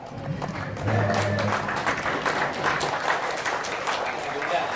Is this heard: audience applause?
yes